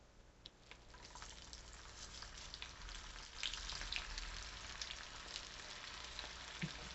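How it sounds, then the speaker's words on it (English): French fries crisping in hot oil on their second fry, a steady dense sizzle and bubbling that holds for the whole stretch with a few sharper crackles, close and continuous with no talk. "And for the second fry, since you're really just crisping it up, you can put the whole thing in"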